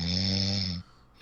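One loud, close snore with a rough, buzzing rasp runs for almost a second, then cuts off into near silence with a faint sound at the very end.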